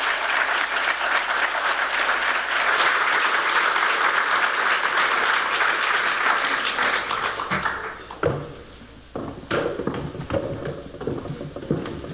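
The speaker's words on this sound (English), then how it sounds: "Please welcome them up to the stage with a warm, warm round of applause." Sustained audience applause welcoming panelists onto a stage at a Black in Design conference, steady and full for about eight seconds before tapering into a few scattered claps and quiet room noise.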